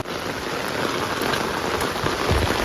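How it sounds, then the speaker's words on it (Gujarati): Heavy rain pours down steadily in a farming area, a dense continuous hiss of drops striking surfaces, fairly close and unbroken, with no voices over it. "વરસાદ ચાલુ થયો છે પાછો ધોમ"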